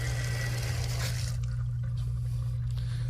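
Water runs steadily from an eyewash station in a continuous hiss over a strong low hum, with no voices.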